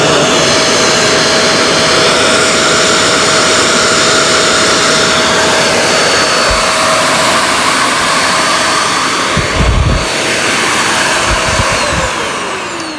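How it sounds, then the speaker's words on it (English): The motor of a Shark Navigator NV70 upright vacuum cleaner runs loud and steady with a high whine, and a few low thumps of handling occur near the end as it begins to wind down. "motor sounds really good."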